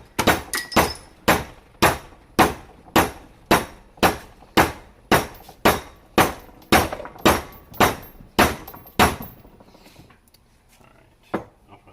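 Loud, evenly spaced hammer blows press bushings into a Honda Prelude rear suspension part, about fifteen sharp ringing strikes at a steady rhythm, followed by a few seconds of quiet clinks.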